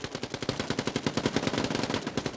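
Rapid SMG bursts from a 1v1 shooter video game match, a steady stream of closely spaced shots firing continuously and loudly with no pauses.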